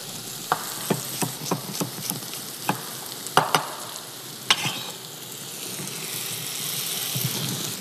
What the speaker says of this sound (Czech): Cibuli orestuji na olivovém oleji